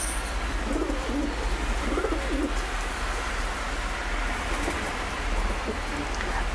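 Soft, repeated cooing from a domestic racing pigeon in a loft, a few low rolling phrases partly buried under a constant broadband rumble and hiss.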